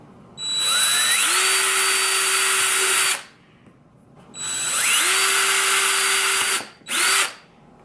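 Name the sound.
drilling a small hole with a small drill bit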